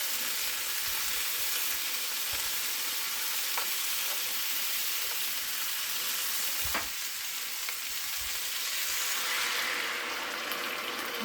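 Green beans frying in a pot with ham and onion, a steady loud sizzle with occasional stirring clinks, no voices.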